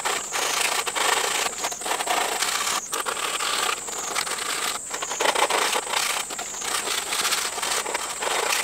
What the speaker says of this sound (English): now, I need to sand this down, make it cleaner. It's kind of rough and sharp